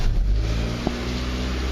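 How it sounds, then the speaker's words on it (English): A Mazda 626 engine held at a high idle after an automatic transmission swap, a steady low rumble running close and unbroken with one small tick partway through. "I'm still getting that high idle."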